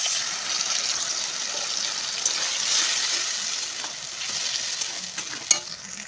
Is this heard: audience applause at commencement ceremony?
no